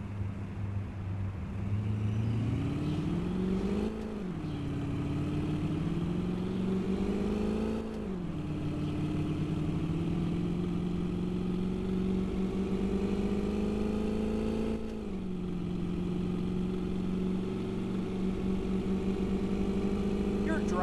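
A car engine in a taxi driving game hums steadily and rises in pitch several times as it accelerates and shifts, a continuous synthetic drone with voices speaking over it.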